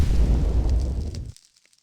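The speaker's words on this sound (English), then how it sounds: "and we finally have a juicy kaboom" A designed explosion sound effect for a Minecraft celestial-magic mod, layering a heavy impact with lingering fire: one deep, loud boom that rumbles and decays over about a second, ending in faint crackling sparks.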